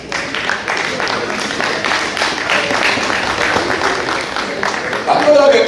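Audience clapping for a president at a diaspora community gathering, steady applause mixed with crowd murmur and a speaking voice, swelling louder near the end.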